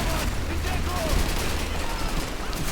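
Rapid gunfire from a Call of Duty 2 match, a dense, continuous fusillade of shots rattling throughout at steady loudness, with battlefield noise and some voices mixed underneath.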